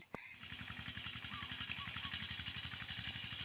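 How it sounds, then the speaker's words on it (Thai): A small single-cylinder engine chugs in a fast, even rhythm as a walking tractor ploughs wet soil, steady and somewhat distant throughout. "นี่กำลังไถแบบนี้ค่ะ พี่น้องรถไถน้อย ค่อยไถไปค่ะพี่น้อง"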